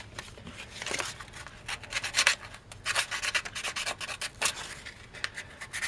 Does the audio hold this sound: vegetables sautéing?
no